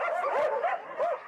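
A dog at a large farm animal sanctuary gives a few short, high yips and whimpering barks, close by and fairly soft, in a quick uneven burst.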